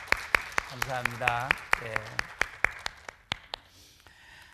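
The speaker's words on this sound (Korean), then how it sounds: "여러분 우리 환영 박수 한번 해주시죠" A small church congregation gives a welcome with sharp, distinct hand claps in an uneven rhythm, under a voice speaking briefly, then the clapping thins out and stops.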